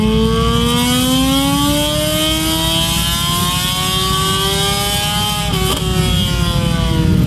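A big superbike for Isle of Man TT racing revs hard on a dyno in an enclosed room, a loud, steady engine roar that climbs in pitch for several seconds, with a brief dip near the end.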